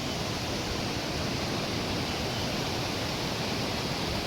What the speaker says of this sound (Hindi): तो ये पानी की धारा की है, यानी कि पानी का बहाव कितना तेज़ है